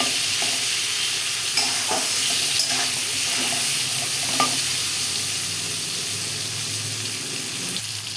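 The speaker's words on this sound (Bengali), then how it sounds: "এবার আলুটা খুব সুন্দর করে ভেজে নিচ্ছি" Potatoes frying in a pan with salt and turmeric, a steady broadband sizzle running throughout with occasional soft stirring clicks and scrapes, close and fairly even in loudness.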